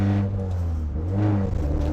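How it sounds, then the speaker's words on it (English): A 1990 Mazda Miata race car engine rumbles deep and steady with a loud, throaty exhaust drone, rising slightly in a short rev. "just the sound of that exhaust, which is ridiculously loud"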